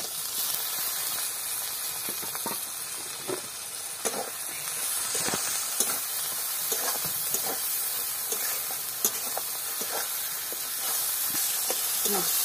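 Spiced masala with salt and chopped tomato sizzles in a hot pan, a continuous hiss broken by scattered clicks and scrapes of stirring, moderately close with no talk.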